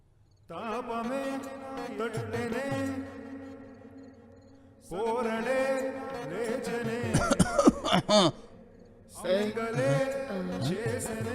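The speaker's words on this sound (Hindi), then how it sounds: "क्या हुआ बेटा, इतना खांस क्यों रहा है?" A child coughs in rough, repeated fits inside a home: one long bout, a pause, then a second harsher run ending in sharp hacking bursts, and a final fit of coughing after another brief gap.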